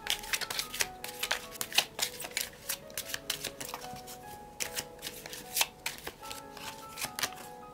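Oracle cards shuffled by hand, a long run of crisp, close riffling and slapping clicks in quick irregular bursts, with faint background music tones and no speech.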